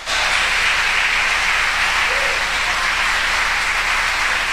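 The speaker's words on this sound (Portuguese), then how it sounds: "Dê um aplauso ao Senhor Jesus." Dense, steady applause from a church congregation during a sermon, a continuous broadband clatter at full level with no voices on top.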